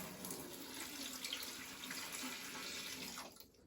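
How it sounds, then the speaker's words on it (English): Water poured into a Beer Monster draught machine, a steady close splashing and trickling stream that runs unbroken for a few seconds before tapering off at the end. "So what I'm going to do, I'm just going to pour some water into that now."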